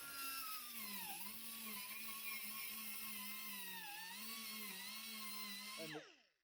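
A VEVOR quarter-inch right-angle air die grinder, fed by a fully charged compressor, whines at a high, steady pitch that dips slightly under load a couple of times, then spins down to silence at the end.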